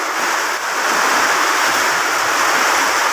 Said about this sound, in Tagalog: Talagang natalsik yung ulan.